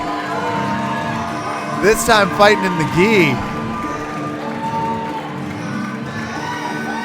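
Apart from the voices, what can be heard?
crowd cheering at jiu-jitsu event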